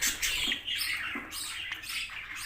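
Budgerigar chicks squawk in harsh, raspy bursts, close and fairly quiet, with a steady hiss of cage noise underneath and no talking.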